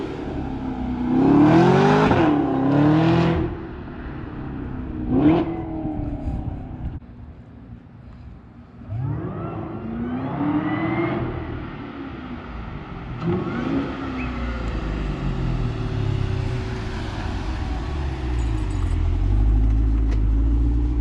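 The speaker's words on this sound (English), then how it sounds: "Supercharged SS." Supercharged Chevrolet Camaro SS engine revving hard in a few sharp bursts, then settling into a rising, rumbling acceleration, loud and close, with no talk.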